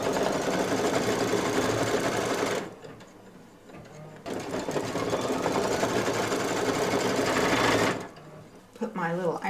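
Home embroidery machine stitching green-thread placement lines for leaves on a hooped cherry design, a steady close mechanical whir in two long runs with a pause between and a brief clatter at the end.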